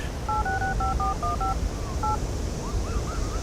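Telephone keypad dialing tones, a quick run of about eight beeps followed by one more after a short pause, clear over a steady background hiss, then faint warbling tones.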